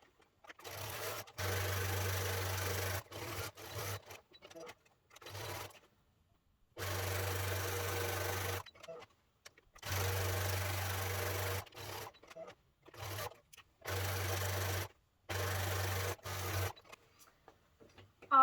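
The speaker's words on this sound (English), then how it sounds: "back stitch a little bit, and then sew to the end" Sewing machine running in repeated bursts of several seconds while stitching the side seam of a fabric gift bag, close and steady, with short back-stitch runs and silent gaps between.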